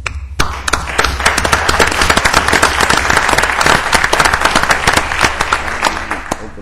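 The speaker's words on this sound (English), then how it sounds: "I think you all deserve not only a huge round of applause" A room full of people at an Orlando city council workshop bursts into applause, with sharp individual claps over a dense, sustained round of clapping from close by.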